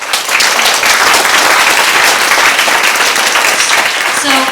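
An audience at a community dedication night bursts into applause, a loud, dense wash of clapping from many hands held steady throughout, close and filling the room.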